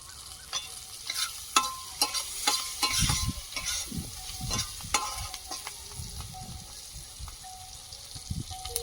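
Spice masala with chopped tomato sizzles in a pan, with sharp intermittent scrapes and clinks of a spatula stirring it, close and moderately loud, the frying hiss steady between strokes.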